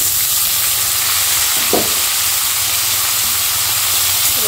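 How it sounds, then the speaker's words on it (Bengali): Ridge gourd and potato fry in a pan with a loud, steady sizzle and hiss, with a brief stir partway through; no talking. "ঝিঙে আর আলুটা একটু ভেজে নেব"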